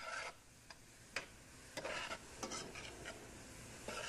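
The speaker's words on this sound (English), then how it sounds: "Now, we saute that just a little bit there." Chopped parsley sautés in a pan, giving a faint sizzle broken by several quick scraping strokes of a spoon at an uneven rhythm, with no talking.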